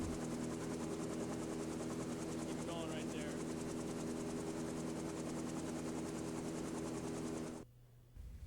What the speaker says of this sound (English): Then check for the smoothness of the rotor by increasing the engine RPM.